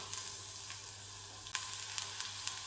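Garlic sizzling in hot mustard oil, a continuous close hiss and crackle of frying, with a few light spatters and one brief stir midway, steady and unbroken by talk.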